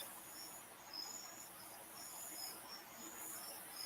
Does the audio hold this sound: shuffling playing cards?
no